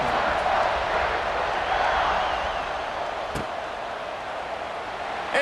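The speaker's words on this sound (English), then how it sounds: "this crowd is buzzing after that last score" A stadium crowd in the video game College Football 26 keeps up a steady, loud buzzing roar through the whole stretch, with one sharp click shortly before the end.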